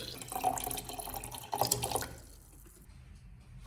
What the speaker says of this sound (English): fill about 1/3 of the container with water